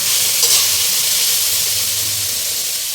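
Marinated pork for pochero being stirred in a hot pan, giving a loud, continuous sizzle and frying hiss with soft scraping from the stirring.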